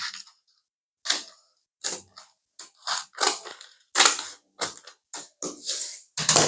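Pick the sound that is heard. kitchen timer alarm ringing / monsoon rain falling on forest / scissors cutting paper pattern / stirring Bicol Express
scissors cutting paper pattern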